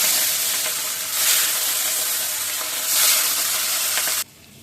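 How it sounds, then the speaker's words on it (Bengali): Fish fries in hot oil in a wok, a steady close broadband sizzle that swells twice before cutting off abruptly near the end. "এবার মাছগুলোকে ভেজে নেব।"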